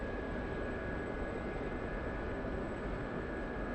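SA342 helicopter in a flight simulator game, a steady dense engine and rotor drone with a constant whine running unbroken throughout, loud and close, with no talking.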